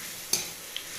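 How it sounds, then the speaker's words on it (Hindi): Boiled chickpeas being stirred into fried amaranth greens in a pan, with a soft steady sizzle and two brief scraping clinks of the spoon, no talk. "इसके बाद फिर इसको अच्छे से मिक्स कर देना है।"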